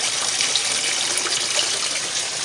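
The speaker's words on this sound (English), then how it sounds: "Moving water." Steady rushing flow of water pouring into an aquaponics sump with a low water level, a continuous close hiss with no breaks and no voices.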